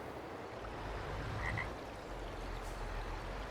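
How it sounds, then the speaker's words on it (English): A frog croaks in a Farming Simulator 22 game scene, a short double croak standing out faintly over a steady watery, noisy background ambience. "I hear a frog."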